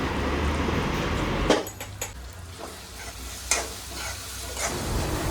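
Chili powder goes into a hot pan of frying ridge gourd vegetable and is stirred. A soft sizzle runs under scraping spoon strokes and a few light clinks against the metal pan, with no talking.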